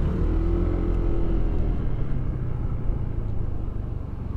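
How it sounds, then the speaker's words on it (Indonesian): A Honda PCX 160 scooter engine running steadily while being ridden, a close, smooth low rumble with a faint hum under wind noise, no talking. "adem banget cuy, jadi nggak ada kasar banget ya suara mesinnya"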